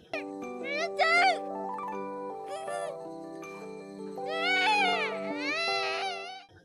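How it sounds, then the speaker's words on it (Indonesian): An anime girl from the 2016 film Koe no Katachi cries with a forced, strained voice, high wailing sobs rising and breaking in bursts over a soft sustained music tone. "hingga scene ditutup dengan tangisan"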